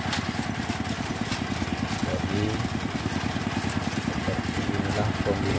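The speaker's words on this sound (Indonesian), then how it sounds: "Jadi saat ini kita lagi mencari sumber mata air dengan menggunakan alat bor" An engine-powered drill runs steadily while boring a water well in Morowali, with a constant mid-pitched mechanical drone and rhythmic pulsing, and a voice speaks briefly over it.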